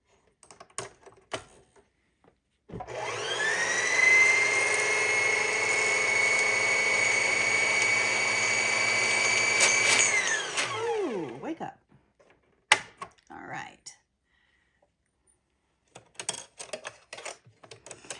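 A sewing machine's motor spins up with a steady whirring hum for several seconds while winding a bobbin, then winds down, followed by sparse clicks and taps.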